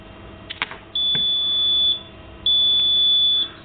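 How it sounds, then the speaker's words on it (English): A battery management system sounds its error alarm as two long, steady electronic beeps of about a second each, clear and close, after a couple of small clicks. "you can probably hear the tone in the background indicating an error."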